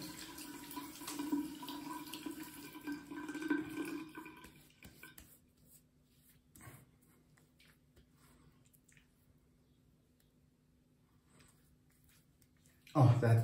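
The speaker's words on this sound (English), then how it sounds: "I'm just going to rinse a bit with cold water." Cold tap water runs and splashes as a face is rinsed at a sink, a steady wet rush for the first few seconds that fades to faint dribbles, with a loud burst of splashing at the very end.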